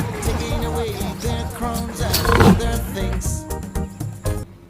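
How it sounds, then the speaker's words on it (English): A lion gives a deep, rumbling roar that swells to a peak midway and then fades over a few seconds, loud and close, with music-like tonal sound layered around it. "L for lion."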